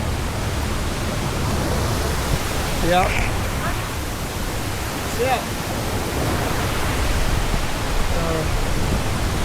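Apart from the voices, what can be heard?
Savage Falls waterfall rushing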